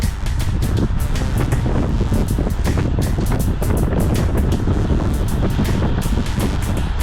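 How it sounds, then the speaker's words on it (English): Heavy wind buffeting the microphone on a fast road bike ride, a loud continuous roar with rapid gusty thumps and no talking. "It gets windier"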